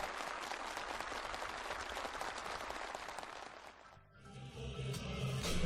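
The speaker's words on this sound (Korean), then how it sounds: "살림집 이용 허가증이 참가자들의 열렬한 박수 속에 전달됐습니다." A crowd of officials, farm workers and builders gives enthusiastic applause at a gathering in a farm village where housing permits are handed over. The clapping is dense and sustained, briefly dips partway through, then swells again.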